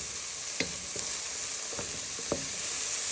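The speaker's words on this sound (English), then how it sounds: "you're just giving them a stir in so they can cook" Prawns frying with onions and garlic in a pan for prawn and tomato spaghetti, a steady close sizzle punctuated by several sharp clicks and scrapes of stirring, no talk.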